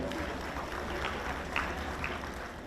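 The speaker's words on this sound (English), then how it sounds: "Audience, huge round of applause." An audience applauds to welcome a guest speaker at a CV guidance session for MBBS students, a dense, even patter of clapping heard at a distance, steady and fairly faint.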